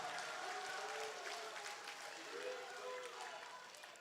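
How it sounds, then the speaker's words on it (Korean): A crowd at a Korean political party rally applauds, a dense, steady wash of clapping that holds through the whole stretch and tapers slightly at the end, heard from a distance. "동의하시면 여러분 큰 박수 한번 부탁드립니다."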